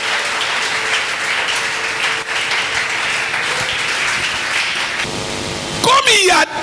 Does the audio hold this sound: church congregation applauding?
yes